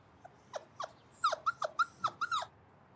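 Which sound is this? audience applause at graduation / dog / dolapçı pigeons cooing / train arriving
dog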